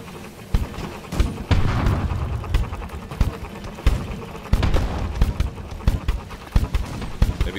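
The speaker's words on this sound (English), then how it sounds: "Okay, get the broadside cannons going." Repeated booming broadside cannon blasts fire in quick irregular succession in the game The Last Leviathan, loud and punchy, with some game sounds between the shots.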